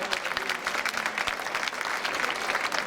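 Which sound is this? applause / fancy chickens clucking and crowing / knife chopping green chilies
applause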